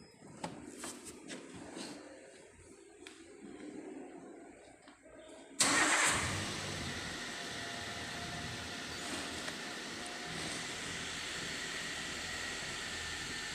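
A 2013 Toyota Avanza engine cranks and catches after a few quiet clicks and rustles, then settles into a loud, steady idle hum that continues to the end, close up and with no talk.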